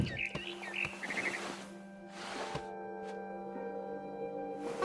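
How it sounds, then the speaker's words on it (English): A barn swallow chirps outside a window in the video game What Remains of Edith Finch, giving quick bursts of bright tweets that come and go over a quiet, steady background hum, with no voices. "Then I heard chirping outside my window. It was a barn swallow going back to her nest."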